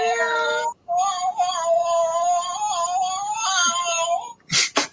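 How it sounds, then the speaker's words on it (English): Cat fight sound effect: drawn-out, wavering yowls and caterwauls that rise and fall for several seconds, a brief gap, then sharp, loud screeching bursts at the end. "I think we need a cat fight for that one."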